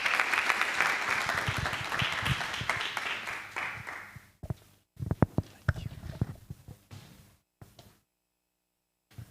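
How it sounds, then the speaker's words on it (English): An audience at a Johannesburg tech startup policy roadshow claps to welcome a speaker: dense, steady applause for about four seconds, then it thins out into a few scattered claps and murmurs before going quiet. "Let's give a round of applause to welcome."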